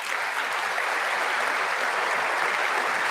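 Sustained applause at a State of the Union address, a dense, even wash of many hands clapping from a large crowd, holding steady throughout with no voices on top.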